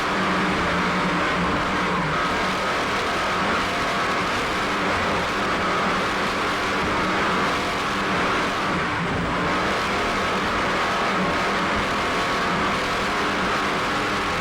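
Offshore racing powerboat Hot and Nasty M58 at the 1996 Miami Offshore Grand Prix, its engine roaring steadily and loudly at speed with constant rushing wind and water noise, heard onboard.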